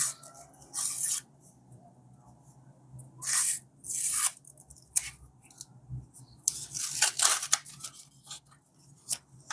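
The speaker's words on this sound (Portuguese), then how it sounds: "abrindo aqui mais um pacotinho das figurinhas da física desse vídeo" Crisp tearing and crinkling of a small sticker packet being opened by hand, in several short bursts with quiet gaps between them, close up.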